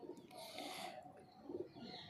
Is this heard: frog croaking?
no